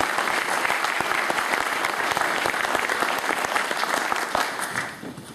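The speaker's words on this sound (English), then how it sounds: "let's give them a nice round of applause" Loud, dense applause from a large audience at a tribute event for a Virginia legislator, continuous clapping filling the whole stretch and easing slightly near the end.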